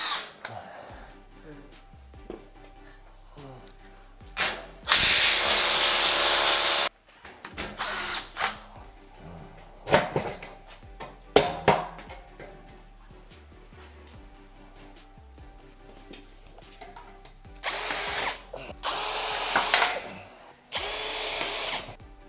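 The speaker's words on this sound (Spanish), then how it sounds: "y ahora vamos a taladrar al techo." Power drill boring up into a plasterboard (pladur) ceiling during installation of a pocket sliding-door frame, several loud bursts of drilling separated by pauses and handling clatter, close and dominant.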